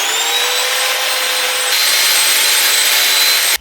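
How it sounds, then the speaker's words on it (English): Drill-driven wire brush scrubbing flash rust off the cylinder head of a 1987 Mazda 323 engine, a loud continuous high-pitched whir that rises slightly partway through and cuts off abruptly at the end. "Got the wire brush on the end of this, and I'm just taking off some of the flash rust so that it's a better seal"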